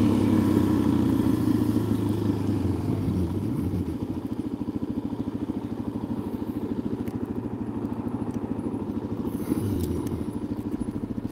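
A motorcycle engine runs loud and close throughout as the rider pulls a wheelie on a hill trail, holding a steady drone with rising and falling throttle surges and faint clattering underneath.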